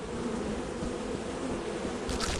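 Bees buzzing around a beehive in the video game Lethal Company, a steady dense drone that stays loud and close throughout.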